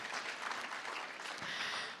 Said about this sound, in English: let's give the innovators, the exhibitors, a round of applause